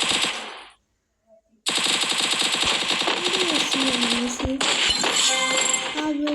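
Rapid automatic gunfire from the Free Fire mobile shooter game bursts in loud and dense after a short silence, with layered shots and in-game effects continuing for several seconds.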